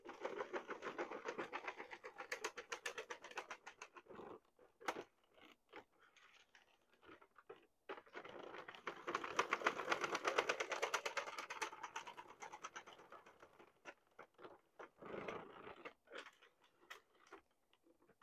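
A Sentro circular knitting machine works felting wool into a purse, giving rapid rhythmic plastic clicking and ticking in bursts with brief pauses, close and fairly quiet, with no talking.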